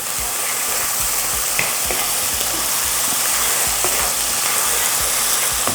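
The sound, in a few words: garlic frying in hot oil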